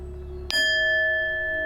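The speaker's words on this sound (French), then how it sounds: "puis sonner la petite cloche" A single small bell is struck once in a hospital, giving a bright, clear ring that sustains and slowly fades.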